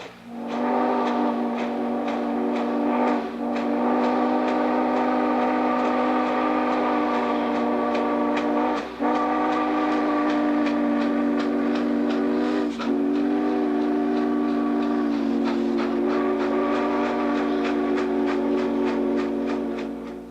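Norfolk and Western 611 steam locomotive sounding a long, loud chime whistle almost continuously, with brief breaks and chuffing exhaust beats underneath, close by during a photo run on an excursion toward Chattanooga.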